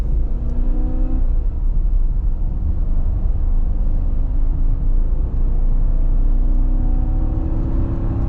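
2012 Jeep Grand Cherokee accelerating from a stop on a road to catch a truck, a close steady engine rumble with rising harmonic tones as revs climb, loud and continuous with no talk.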